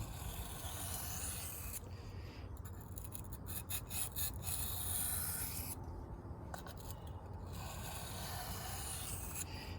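A Kershaw Trace knife is sharpened on a stone, giving a quiet, continuous rasping scrape of the blade stroking across it with light pressure, no voices over it.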